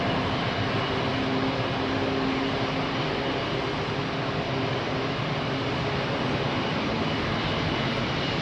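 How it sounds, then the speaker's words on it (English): A jet airliner on a low-power departure from Heathrow, its engines a steady, broad roar that holds evenly throughout with no talk. "Low power departure."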